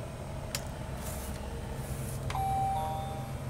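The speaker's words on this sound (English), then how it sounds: "Oh, it's even got a doorbell." A toy playhouse doorbell sounds a single electronic chime tone near the end, clear and moderately loud over a steady background hum.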